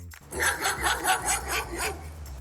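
A dog barks about six times in a steady rhythm, deep and moderately loud, with a low hum underneath.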